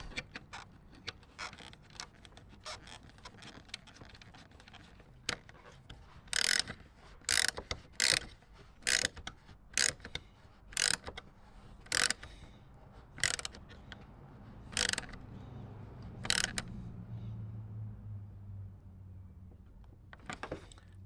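A fastener on a Toyota GR86 front side marker is tightened, making a close, quiet series of sharp ratcheting clicks in a regular rhythm with pauses, ending in a few scattered clicks over a low hum.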